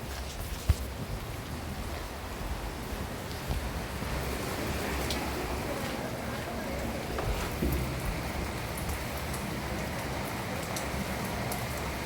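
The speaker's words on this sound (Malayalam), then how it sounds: "ഇവിടെ മഴ പെയ്തിട്ട് നല്ലോണം കുറച്ച് വെള്ളം ഒഴുകുന്ന സ്ഥലമുണ്ട്" A continuous wash of running water, like a rain-fed stream rushing steadily nearby, with no voices and little change in level.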